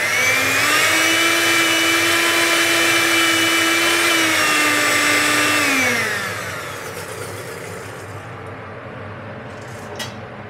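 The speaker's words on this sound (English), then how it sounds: "we're ladling in wild garlic into the blender" A blender whirs loudly and steadily for several seconds blending hot wild garlic sauce, its motor pitch rising briefly, then spins down, leaving a low hum and a faint clink.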